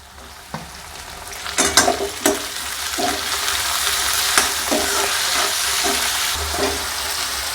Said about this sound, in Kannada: ಈರುಳ್ಳಿ ಚೆನ್ನಾಗಿ ಫ್ರೈ ಆಗ್ಬೇಕು ರೀ